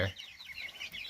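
Chickens in a coop cluck and chatter softly in short, overlapping calls against quiet background noise.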